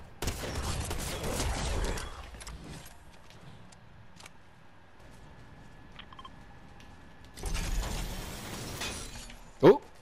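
Gunfire strikes the player in Fortnite Chapter 4 Season 3, coming as two broadband bursts of impacts a few seconds apart with a sharp, loud crack near the end, over quieter game ambience.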